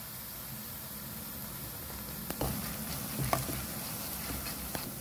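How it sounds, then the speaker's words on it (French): Boondi batter deep-frying in hot oil, a soft, even sizzle and bubbling patter heard alone at close range, with a few light taps from the utensil. "Voilà, on fait bien frire"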